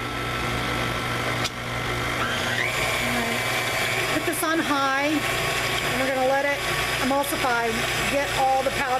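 Vanilla pudding powder, two boxes in four cups of cold whole milk, is whisked in a bowl, giving a steady whirring, churning sound close by that runs throughout while a person talks over it.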